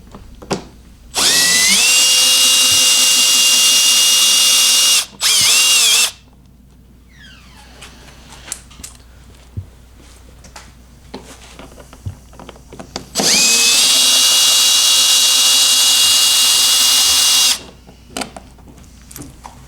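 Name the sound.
power drill removing Torx screws from Ski-Doo hood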